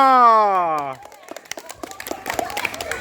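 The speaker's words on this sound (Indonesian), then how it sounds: "tepuk tangan untuk kelompok IR Soekarno" A voice speaks first, then a scatter of quick claps breaks out, light and uneven, like a small group applauding nearby, at an elementary school student orientation.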